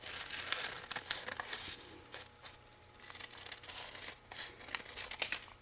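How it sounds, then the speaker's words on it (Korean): Scissors snip through fabric to shape a small flower petal, giving irregular crisp cuts and papery rustles in bursts with brief pauses, close and quiet. "꽃잎을 이렇게 대고서 가위로 잘라 주시면 되겠습니다"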